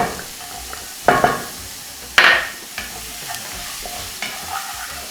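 Garlic cloves sautéing in oil with Scotch bonnet pepper for an egg and plantain frittata, an ongoing sizzle broken by two sharp bursts as ingredients hit the pan, then a few light stirring scrapes.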